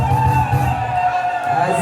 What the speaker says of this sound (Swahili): Vigelegele na makofi kwao.